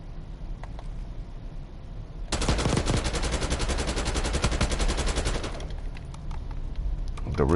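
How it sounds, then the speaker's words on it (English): Rapid automatic gunfire from a hard-recoiling gun in the multiplayer video game Call of Duty: Black Ops 6 rattles in one loud sustained burst of about three seconds, with quieter game sounds before and after. "The recoil is mad terrible on this gun."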